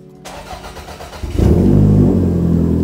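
A Toyota Corolla engine idles briefly, then revs up sharply into a loud, deep, sustained roar that holds steady at close range.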